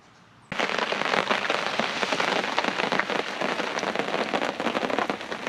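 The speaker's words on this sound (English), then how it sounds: "as you can hear, it's raining, and raining quite steadily now" Steady rain falling at a campsite, pattering densely and evenly on a nearby surface; it starts abruptly and then continues unbroken as a loud, close hiss of drops.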